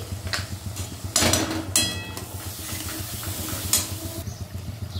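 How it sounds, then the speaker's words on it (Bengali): Spice paste with turmeric and salt sizzling in a pan for a Bengali aar fish curry, stirred with scraping bursts of a spoon against the pan over a steady low frying hiss, close and moderately loud. "এবার আর কি মশলাটা খুব ভালো করে কষতে হবে"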